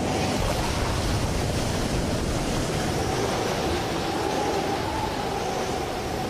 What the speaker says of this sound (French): Des vents soufflant jusqu'à 250 km/h s'abattent sur le littoral.